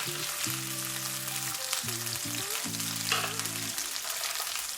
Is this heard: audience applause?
no